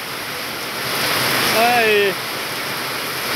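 Steady rain falls in São José do Seridó in Brazil's sertão, a broad continuous hiss running the whole time while someone speaks briefly over it.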